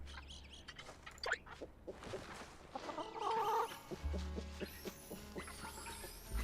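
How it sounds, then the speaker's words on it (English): Chickens in the video game Palia, heard as a few soft clucks and short bird calls over low game music and background hum, with no talk. "To the barn to take care of my little chickens."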